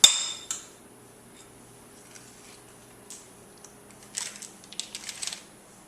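Spoon scraping and clinking against a bowl while filling twice baked potato shells with a cream cheese mixture, a few faint scattered taps and scrapes over a quiet kitchen background.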